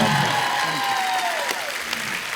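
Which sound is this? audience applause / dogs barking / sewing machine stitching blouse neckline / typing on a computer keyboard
audience applause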